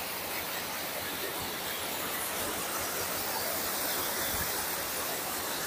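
Water sprays from a tanker mounted on a Massey Ferguson 241 tractor, a steady, loud, continuous rushing hiss with no pauses and no voices.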